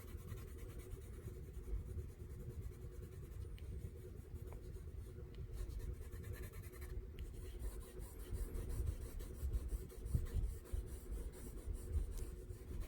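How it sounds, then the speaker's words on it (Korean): Pencil shading the dark areas of a self-portrait drawing, a soft continuous scratchy rubbing of graphite on paper, close and quiet with steady back-and-forth strokes. "이렇게 해놓고 이제 어두운 데를 칠해 나갑니다."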